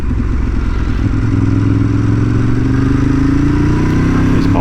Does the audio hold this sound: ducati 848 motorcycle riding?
yes